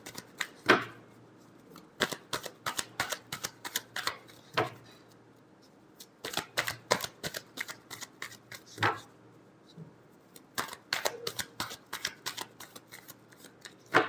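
Tarot cards are shuffled by hand in repeated quick bursts of crisp flicking snaps, close and dry, with short quiet gaps between rounds and no talking.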